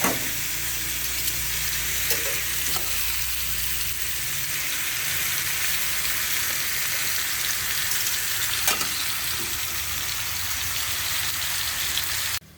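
Sauce sizzling and frying in a cooking pan as it is stirred, a steady bright hiss running throughout with a few faint clinks of the utensil against the pan.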